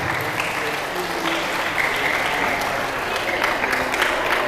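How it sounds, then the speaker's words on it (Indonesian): A crowd in a school auditorium in Medan applauds, a dense continuous roar of clapping with some crowd noise mixed in, fairly loud and sustained throughout. "Tepuk tangan untuk saudara-saudara kita."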